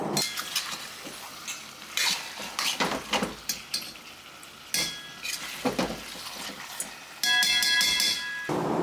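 Chicken frying in a pan over a high flame, with a sizzling hiss beneath repeated clattering and scraping of a metal utensil against the pan, loud and close.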